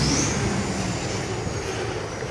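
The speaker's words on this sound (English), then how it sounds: "It's a loud truck. Let me get away from it." A loud truck passes close by, a heavy broadband roar that fills the whole moment and eases off only slightly toward the end.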